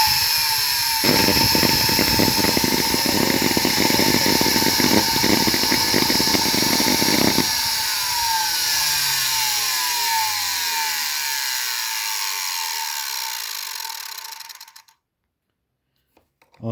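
A vacuum cleaner with a faulty motor, sparking from worn brushes, whines loudly at a steady high pitch with a rough rattling buzz, then spins down gradually and falls silent.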